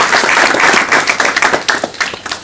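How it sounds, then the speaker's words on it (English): Loud, close audience applause for Professor P.K. Seth, a dense burst of many hands clapping that thins into individual claps toward the end. "So big round of applause for Professor P.K."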